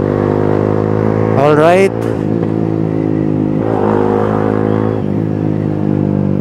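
A motorcycle with a loud open muffler runs steadily near the mic, its engine note rising in a quick rev before settling back to a rumbling idle, while someone talks over it.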